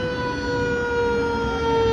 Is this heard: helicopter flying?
no